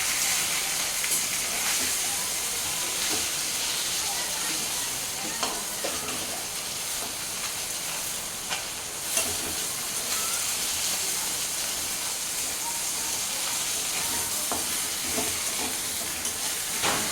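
Continuous loud sizzling and crackling of fish frying in hot oil in a pan, with occasional scrapes and pops, no talking.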